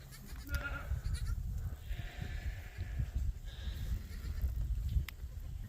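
Goats and sheep bleat in a grassy brush pasture, several overlapping cries near and far over rustling and wind.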